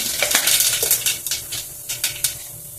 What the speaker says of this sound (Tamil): இந்த சைடில் இந்த கடுகு போடுறேன்.